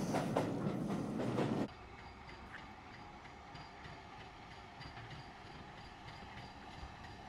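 A Severn Valley Railway heritage train runs toward Bridgnorth with a steady rumble and rolling rail noise heard from on board, louder and rougher at first, then settling into an even, moderate drone.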